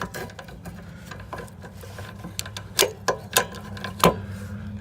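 A 12 mm ratchet wrench loosens a bolt on a 2012 Hyundai Sonata during rear brake rotor work, giving quick clicks and four or five sharper ticks near the end over a low steady hum.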